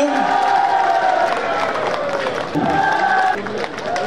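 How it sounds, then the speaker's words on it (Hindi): A large crowd at a political rally cheers and claps loudly and steadily, a dense roar of applause and shouts filling the whole stretch. "जोरदार तालियां।"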